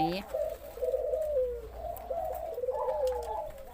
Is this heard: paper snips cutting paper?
no